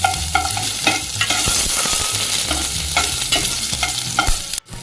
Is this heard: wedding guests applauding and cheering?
no